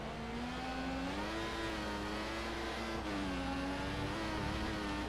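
Engine of an F1 race car in the video game F1 2014, a steady high-pitched whine that rises and dips slightly, loud and continuous, with no talking.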